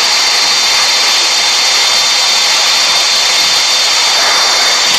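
A jet airliner takes off in the mobile game Real Flight Simulator, giving a loud, steady, broadband engine roar with a high whine held at full power, close and unbroken throughout.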